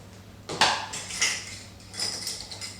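A metal teaspoon clinking against a bowl or dish while salt is measured for banana bread: a few light bright taps and rattles, close and fairly quiet, with no talk.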